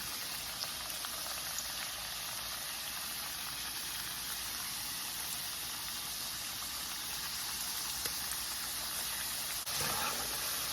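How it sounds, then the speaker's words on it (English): Plantain slices for chips fry in hot oil with a steady, even sizzle that crackles continuously throughout, no voices present. "I'm going to fry the slant one first."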